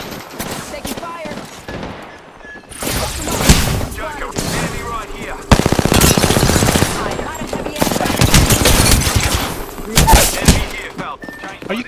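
Rapid automatic gunfire and bursts of shooting from an online video game, dense and loud with continuous rattling volleys, while players talk over the action.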